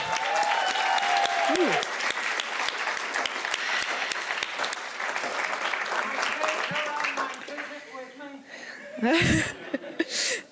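A round of applause from an audience at a peace lobbying preparation session, sustained clapping with some chuckles and laughter, and voices breaking in over it toward the end.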